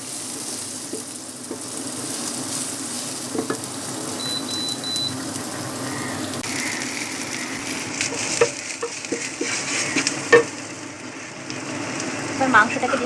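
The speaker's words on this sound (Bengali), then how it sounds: "পেঁয়াজ আর তেজপাতাটা ভালো করে ভেজে নিয়েছি, দেখতেই পাচ্ছেন। একটু ব্রাউন ব্রাউন করে আমি ভেজে নিব এটাকে।" Onions and bay leaves fry in oil with a soft, steady sizzle, broken by intermittent clinks and knocks of utensils toward the end.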